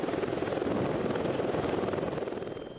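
A military helicopter hovers close and loud while lifting paratroopers off the ground on fast ropes, its rotor wash a dense, continuous rumbling roar with a steady rhythmic chop.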